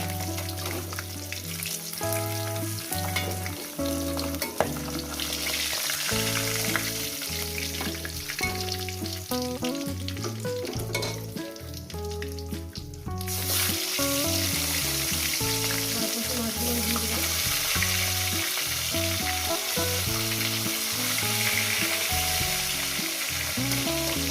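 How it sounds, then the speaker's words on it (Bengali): Katla fish belly pieces fry in hot oil with a loud, continuous sizzle and crackle, joined by stirring sounds and a steady tonal background throughout. "মাছগুলো আমার ভাজা হয়ে গেছে, মাছগুলো উঠিয়ে নেবো।"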